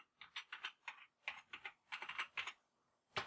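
Password typed on a computer keyboard while setting up a Raspberry Pi for OctoPrint, quick close clusters of light keystroke clicks separated by short pauses.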